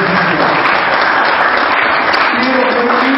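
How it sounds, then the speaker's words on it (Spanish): An auditorium audience at a university event breaks into loud, continuous applause for an honoured guest, a dense, even wash of clapping throughout. "a quien también le damos un gran aplauso por su calidad"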